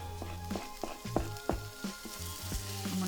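Tomatoes go into a wide frying pan of chicken curry base, loud sizzling and spitting with several sharp clinks and scrapes of a spoon stirring at irregular intervals, close up and without talk.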